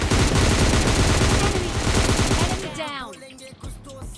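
Dense, loud gunfire from the mobile shooter game PUBG Mobile Lite, rapid continuous shots for a few seconds that cut off abruptly, leaving quieter game sounds.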